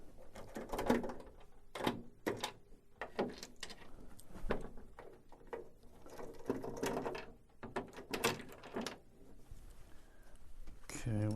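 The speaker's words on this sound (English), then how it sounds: "we have to take two T15 screws out of the back cover" Two T15 Torx screws being backed out of the rear cover of an HP Designjet 500/800 24-inch wide-format printer, giving a run of close, short mechanical clicks and ratcheting bursts with faint speech in between.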